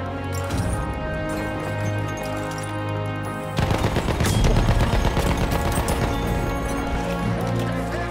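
An MG15 machine gun fires in Battlefield 1, its rapid bursts getting denser and louder partway through over steady game music and effects.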